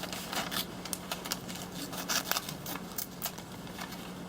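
Spring-loaded scissors on a Leatherman Charge TTI multi-tool snipping repeatedly, a string of quick, crisp close-up clicks and cuts at an uneven pace over a low steady hum.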